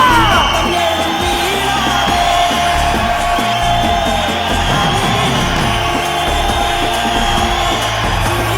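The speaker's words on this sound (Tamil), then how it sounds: "ஒரு மிகப்பெரிய கைத்தட்டலோட இந்த அரங்கத்துக்குள்ள ஒரு வெல்கம் கொடுக்கலாம்" A large crowd in a hall cheers and applauds to welcome the Chief Minister, a loud, sustained roar of whoops and clapping with music underneath.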